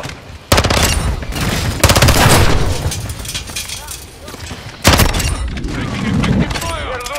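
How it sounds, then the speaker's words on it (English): Heavy gunfire rattles through a military shooter video game: dense bursts and booming blasts, loud and close, with sharp onsets near the start and again around five seconds, fading slightly between volleys. "Taking effective fire."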